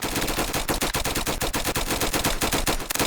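Gunfire in the Roblox team shooter Flag Wars: a dense, continuous stream of rapid close shots, loud and relentless throughout with no pauses and no talking.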